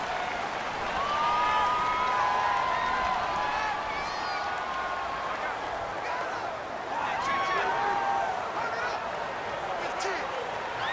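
A stadium crowd in Madden NFL 19, at a Buffalo Bills vs Miami Dolphins game, roars steadily and loudly throughout with swelling cheers, and commentary voices sit over the noise.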